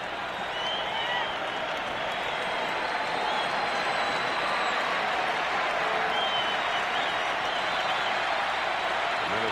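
Dense, sustained roar of a large baseball crowd at Game 7 of the 1991 World Series between the Atlanta Braves and Minnesota Twins in Minnesota, steady applause and cheering filling the whole stretch without a break.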